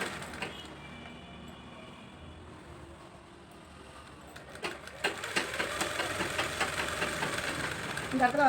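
A sewing machine stitches a lined blouse, starting quietly and then whirring in louder, steady bursts from about the midpoint, close to the microphone, with someone speaking over parts of it.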